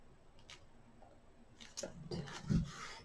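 Scissors snip through cardstock in a few close, crisp cuts, quiet at first and then a louder cluster of crunching snips near the end.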